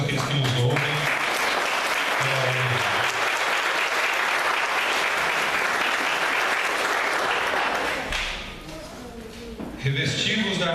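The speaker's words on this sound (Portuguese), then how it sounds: "salva de palmas, todos aqueles que nos ouvem" Applause from a church congregation: a dense, sustained wash of clapping that fills the room for about eight seconds, then fades as a voice begins speaking over the tail.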